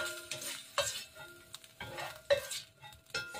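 Potatoes and carrots being sautéed in a pan, giving a soft sizzle with intermittent stirring scrapes and clinks in a quiet, steady rhythm, no voices.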